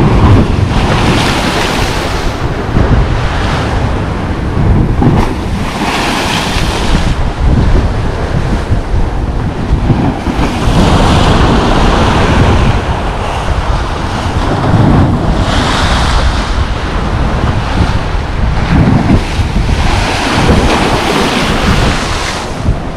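Big sea waves rolling onto the beach at Lazarevskoye, a loud continuous roar of surf swelling and breaking in repeated surges, with heavy wind buffeting the microphone throughout.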